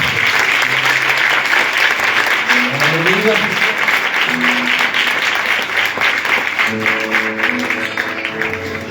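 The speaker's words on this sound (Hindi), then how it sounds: "जोरदार ताली बजाएं।" A church congregation at a live praise and worship service in Islamabad applauds loudly and continuously for several seconds, with some voices and musical tones rising beneath the clapping.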